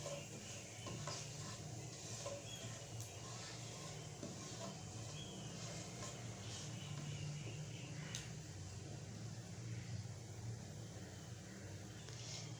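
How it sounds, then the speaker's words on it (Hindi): A tablespoon of cumin seeds frying in a cup of hot oil, giving a soft, continuous sizzle with occasional faint stirring scrapes; quiet and steady throughout, without talk. "हम ज़ीरे को 1 मिनट फ्राई करेंगे।"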